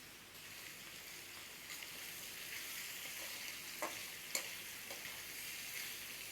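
Ginger garlic paste fries in a pan with a soft, steady sizzle and a few small pops and stirring clicks, faint and close, with no talking.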